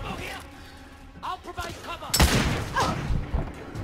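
Shotgun blasts ring out during a firefight in the video game The Order 1886. A sharp, loud report lands midway, with further booming shots around it, while someone talks over the action.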